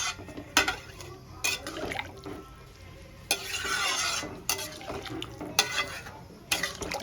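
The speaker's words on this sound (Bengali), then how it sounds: "এবার আমি জল দিয়ে দেবো।" Water goes into a sizzling potato and pointed gourd curry in a pan, bringing a louder surge of hissing and bubbling midway. Repeated scraping stirs punctuate the sound close by.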